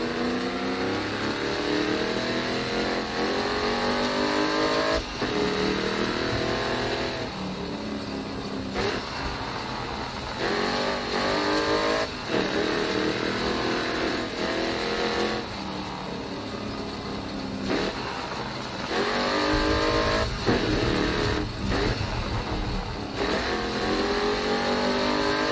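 Race car engine in the racing video game Grid Autosport, revving loudly and continuously with repeated rising and falling pitch sweeps as it accelerates and shifts through gears, with no talk over it.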